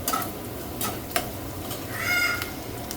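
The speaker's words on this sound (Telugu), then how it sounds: "ఒక ఎండుమిర్చి కూడా వేసుకుని ఫ్రై చేసుకోవాలి" Onion, green chilli, curry leaves and a dry red chilli fry in a pan for a lentil and coconut curry, a soft continuous sizzle with occasional scraping stirs and clinks.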